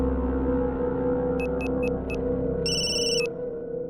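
A telephone rings in short electronic bursts, four quick chirps followed by a longer sustained ring, heard clearly over a steady low hum and room noise; nobody speaks.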